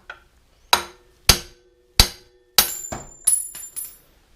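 Hammer strikes a brass punch to drive a pin out of a pulley on a Farmall Super M tractor engine: about seven sharp metallic blows, close and loud, spaced irregularly, each with a brief ringing decay.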